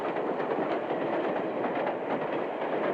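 A steam train runs steadily, a dense continuous rumble and rattle of rolling cars with a faint clickety-clack, loud and close throughout with no pauses.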